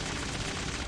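Gunfire from Deadshot in the DC Legends video game, a dense, continuous burst of shots held at a steady loud level for about a second with no gaps.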